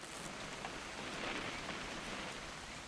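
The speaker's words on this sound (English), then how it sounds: "It's gonna rain the whole weekend" Steady, faint rain falls in the video game What Remains of Edith Finch, an even wash of patter with no break or other sound.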